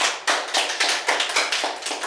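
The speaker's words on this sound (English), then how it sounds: "Round of applause." A small studio crew on an entertainment talk show gives a brief round of applause, close and uneven hand claps lasting about two seconds.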